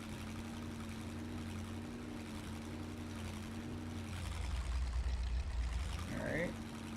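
Steady engine drone of an M1008 truck crawling over rocks in MudRunner, holding a low hum, then growling harder as the throttle rises, with a short scrape near the end and a voice talking over it.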